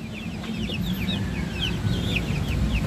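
Young Rhode Island Red chicks on a poultry farm cheep in a rapid run of thin, high peeping calls over a steady low background hum, with no talking.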